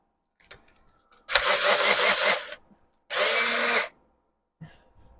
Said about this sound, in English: we're going to use the drill chuck thingy for sanding because it gets rid of torn out grain